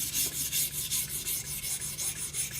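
A knife blade is worked on a guided sharpener stone with quick, even back-and-forth strokes, about a dozen soft rhythmic rasping scrapes close up and alone.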